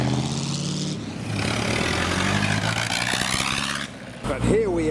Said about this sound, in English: We've got a 35 Ford starting, a couple of hot rods leaving next.